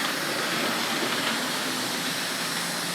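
A Hornby Brush Type 4 Class 47 model locomotive runs along model railway track, giving a steady, close, hissing whirr of motor and wheels that holds at an even level throughout with no voices.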